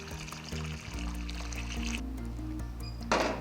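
Boiled water, two litres, pours steadily into a container for brewing kombucha, a soft continuous trickle close by that swells briefly near the end.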